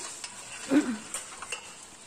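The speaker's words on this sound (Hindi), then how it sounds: "सारे झींगे मैंने डाल दिए अब हम इसे लगातार चलाएंगे" Prawns being stirred in hot oil over a high flame, giving a faint sizzle with a few soft scraping and clinking stir strokes, one slightly louder scrape near the middle.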